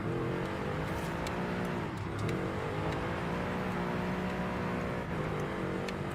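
Tuned car engine in the racing game Forza Horizon 5, revving hard and steadily with gear shifts and pitch swoops, fairly quiet and continuous, alone without talk.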